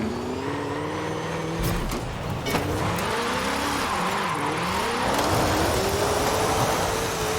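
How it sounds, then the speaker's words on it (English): A car engine in a video game revs hard in first gear, the throttle blipped and held so the pitch climbs and falls repeatedly, loud and continuous throughout with no talking. "This is first gear again. So I did that just by playing around with the gas."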